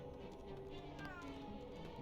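Cat meowing in the LEGO Harry Potter Years 1-4 video game, a faint in-game meow over background game sounds and music, with a player talking over it.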